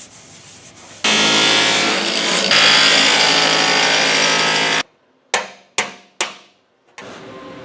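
Metalwork on a Moto Guzzi motorcycle build: a long loud grinding or rubbing burst of about four seconds, then four sharp, ringing hammer blows on welded metal, close up with brief decays between them.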